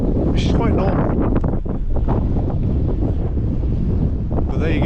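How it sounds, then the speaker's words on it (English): Gusty wind at Europa Point, Gibraltar, buffeting the microphone in a loud, steady roar with sea and surf beneath, while people talk over it throughout. "So as usual, it's windy at Europa Point, which is quite normal."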